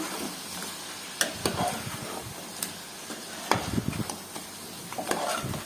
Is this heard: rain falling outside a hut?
no